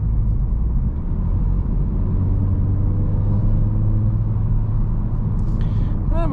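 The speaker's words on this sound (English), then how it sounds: "there is a little bit of road noise" Low, continuous road rumble and tire roar inside a 2023 Audi S5 Sportback cruising on the road, a steady broadband hum with no talking, ending in a brief faint chime.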